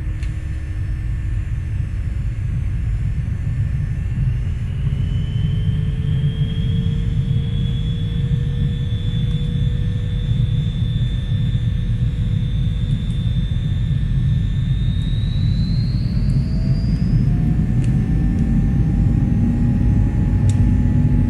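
Jet airliner engines spool up to takeoff thrust in the X-Plane 11 flight simulator, a continuous loud low rumble with rising whines that climb steadily in pitch and then level off, with no voices.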